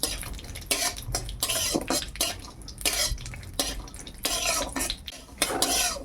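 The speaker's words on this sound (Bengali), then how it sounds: "এই যে কড়াই একটু ঘি দিয়ে প্রথমে কাজুটা ভেজে নিচ্ছি" Cashews frying in ghee in a wok, stirred with a metal spoon in brisk repeated scrapes and clinks against the pan, close and fairly loud over a soft continuous sizzle, with no talk.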